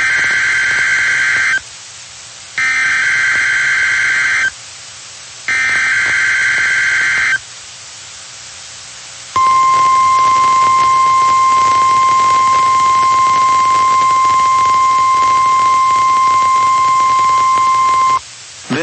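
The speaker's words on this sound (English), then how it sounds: "This is a test of the NOAA weather radio warning alarm device for WXL34." NOAA weather radio weekly warning alarm test for station WXL34: three loud electronic data bursts separated by short gaps, then a single sustained, piercing alarm tone lasting about nine seconds.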